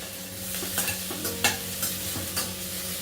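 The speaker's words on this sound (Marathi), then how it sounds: "बटाटाही आपल्याला थोडासा परतवून घ्यायचा आहे" Finely chopped potato sautés in a pan with onion and spices for masala bhat, a soft continuous sizzle broken by several scraping stirs of a spoon against the pan.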